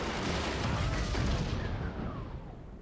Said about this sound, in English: The next cannon shot took out the machine gun and the sniper.